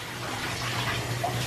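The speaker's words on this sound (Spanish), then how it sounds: "mirad dónde se pone mientras Raquel se ducha" Shower water runs steadily in a home bathroom, a continuous broadband hiss at moderate level with no voices.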